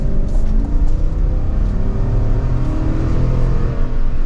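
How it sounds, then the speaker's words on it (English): A 2023 GMC Yukon XL Denali 4WD with a V8 engine gives a deep, loud, sustained rumble while driving, its low exhaust tone holding steady and rising slightly. "you got a good tone to that V8"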